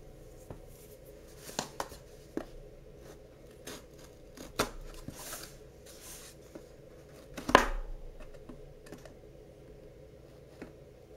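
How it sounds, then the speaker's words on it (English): Cardboard packaging for a Nexus 5 phone being cut open, heard as scattered close snips and scraping clicks of a blade, with one louder cut, all quiet and without talking. "Might be faster just to cut this open."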